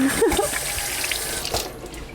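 Water runs from a sink tap as hands are rinsed beneath it without soap, a steady close splashing stream with brief shifts as the hands move through the flow.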